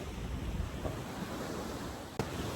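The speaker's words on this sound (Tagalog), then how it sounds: "Kahit na may alon, hindi siya ganun kalakas." Gentle ocean waves at the beach in San Juan, La Union, a soft continuous wash of surf mixed with wind noise on the microphone, fairly faint, with one brief knock near the end.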